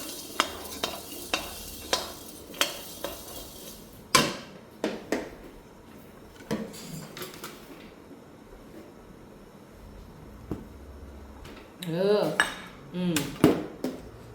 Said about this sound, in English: You can toast in the pan at low fire.